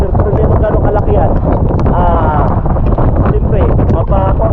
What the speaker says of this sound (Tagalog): malakas na malakas na naman yung hangin at walang putol yung hangin